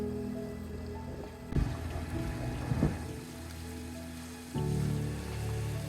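A sailing boat motoring along the Turkish coast near Kekova, its engine a steady low drone mixed with water splashing against the hull, with a couple of brief louder knocks and a rise in engine level near the end.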